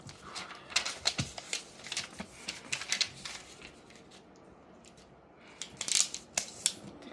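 Colored origami paper is folded in half close up, giving a run of crisp crinkles, taps and rustles that comes in uneven clusters and briefly quietens midway.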